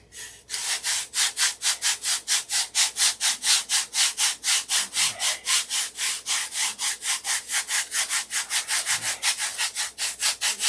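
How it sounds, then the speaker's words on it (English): A wooden model airplane stabilizer, held in hand, being sanded with a long sanding block, steady rhythmic back-and-forth rasping strokes, about three per second, close and alone for the whole stretch. "And I just hold them in my hand and do them with a long block."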